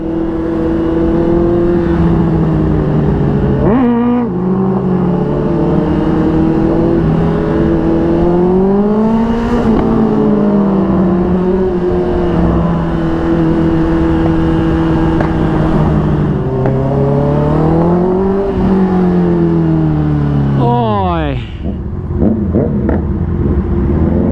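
A loud exhaust roars continuously at close range, its engine pitch swelling and dropping through several revs with a quick climb near the end, no voices.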